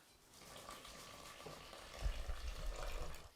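Warm water streams steadily into a bowl on a kitchen scale while a plain white bread dough is being made, a soft, close pouring sound that grows fuller partway through, with no talking.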